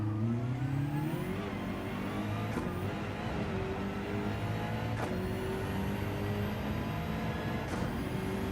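A race car in the Gran Turismo 7 video game, its engine note sweeping and shifting through gears as it slows for a corner, steady and continuous game audio with no voices.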